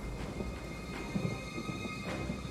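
Steady rain with low rolling rumbles of thunder fills a battlefield in Total War: Three Kingdoms, a continuous dense wash of noise at moderate loudness with no voices.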